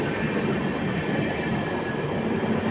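The Kriya Yoga Express rumbles past close by while overtaking a stopped train, a loud continuous roar of wheels and carriages with a faint metallic whine, steady for the whole stretch.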